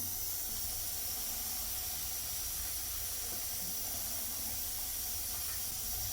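Mustard and fenugreek powder sizzles in hot groundnut oil for a lime pickle, a steady, close, dense hiss that holds without a break and with no talk over it.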